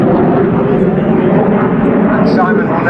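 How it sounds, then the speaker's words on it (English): Jet aircraft XP924, powered by two Avon engines, flies past at an air display, producing a loud, steady roar that fills the scene. "I won't try and talk over those two Avon engines."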